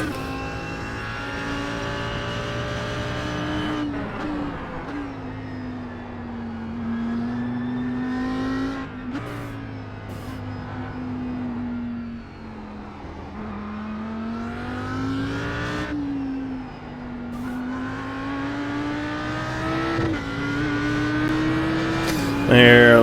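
An Audi R8 GT3 race car driving at Indy Road in iRacing: a continuous close engine whine rising and dropping through gear shifts, with the pitch sweeping as it brakes and accelerates, and someone talking over it.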